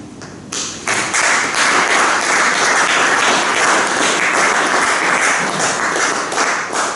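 A crowd applauds steadily, a dense wash of many hands clapping that swells after a brief quieter start and holds strong throughout.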